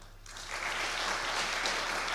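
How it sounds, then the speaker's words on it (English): Conference audience on Long Island breaks into applause, a sudden swell of many hands clapping that rises within a fraction of a second and stays full and steady. "Let's give a big round of applause to Siri Espedel Kindem."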